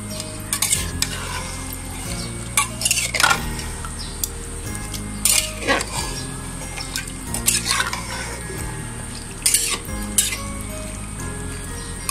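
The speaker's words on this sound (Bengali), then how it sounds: "এখন আমি মাংসটাকে কষিয়ে নিচ্ছি" Mutton for rezala being stir-fried in a pan over high heat: repeated scraping and clinking of a spoon against the metal pan comes in irregular bursts over a steady, loud sizzle.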